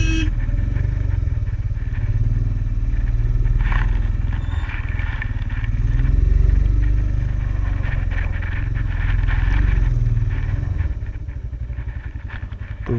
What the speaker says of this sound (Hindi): तो यहाँ पर ले हैं गलियों में बाइक चलाने का मज़ा ही कुछ और